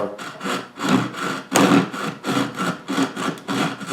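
Hand saw cutting wood for a doll-sized bunk bed headboard, making a shallow step cut at the end; steady rhythmic back-and-forth strokes, close and clear, with no talking.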